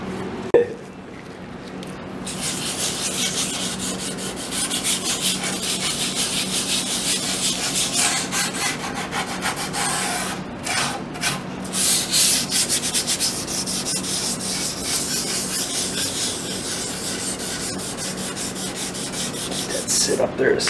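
Continuous scrubbing and rubbing on an antique wooden table as old finish is worked off with lacquer thinner, a close, steady rasping friction lasting throughout with a few brief pauses.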